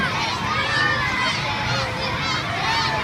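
Crowd of children and adults cheering loudly and continuously at a school golf game at a Friday flag event, a dense steady roar of shouting voices.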